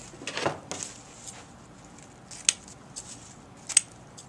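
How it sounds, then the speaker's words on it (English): Scissors snip ribbon strips at an angle for a St. Patrick's Day wreath: a few sharp, close cuts spaced apart, with quiet rustling of ribbon between them and no talking. "fluff and cut your strips at an angle"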